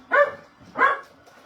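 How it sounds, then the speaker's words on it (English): A yippy 13-year-old dog gives two sharp, close barks about half a second apart, with quiet between them. "Of course, there's dogs barking."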